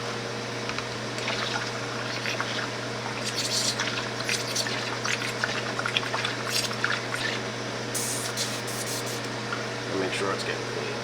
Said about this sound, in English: Pour some more water back in there.